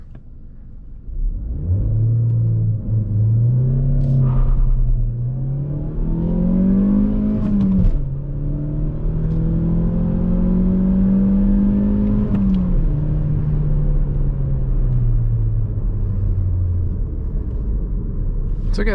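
A 2020 Mazda CX-30 with a 180 hp SkyActiv X engine revs hard at full throttle, pitch climbing through several gear shifts with brief dips between, loud and close, with a steady road rumble underneath.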